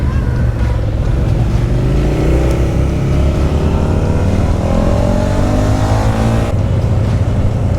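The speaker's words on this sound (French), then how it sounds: "Les voitures elles gueulent de trop, ils forcent le passage." Car engines rev loudly and continuously at a street parade, several motors roaring together close by with rising pitch sweeps as they accelerate, no pause throughout.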